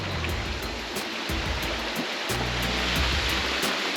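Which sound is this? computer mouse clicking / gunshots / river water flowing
river water flowing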